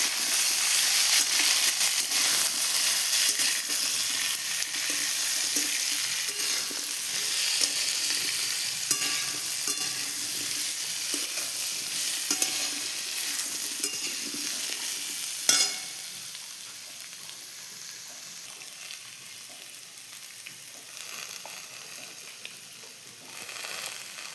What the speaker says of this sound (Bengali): এবার আমি আদাটা দিয়ে দেবো আর কাঁচা লঙ্কা দিয়ে দেবো। এবার ভালো করে কষে নেব।